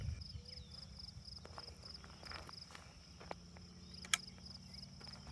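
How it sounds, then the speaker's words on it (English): Cicadas drone outdoors in a steady, high, continuous buzz, faint and unbroken, with a few soft footsteps and small knocks nearby. "there's a hell of a buzzing going on with the cicadas right now"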